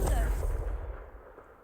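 A Confringo fire spell blasting in a magic video game, a dense low rumbling boom that decays over under two seconds with crackling texture.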